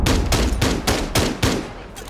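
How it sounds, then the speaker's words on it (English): Rapid repeated gunfire in the video game Rainbow Six Siege, about seven loud, close shotgun-like blasts in quick rhythm filling the clip. "This shotgun's not working."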